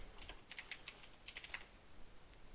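Rapid keystrokes on a computer keyboard while entering a program name into a browser search bar, a quick close run of light clicks with short pauses and a soft steady background hiss.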